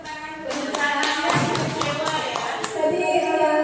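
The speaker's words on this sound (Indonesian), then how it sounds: "Kita kasih tepuk tangan." A small group claps hands in a room, a burst of uneven, close taps that swells and settles, with a voice and tonal sound mixed in around the clapping.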